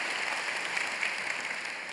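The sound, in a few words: applause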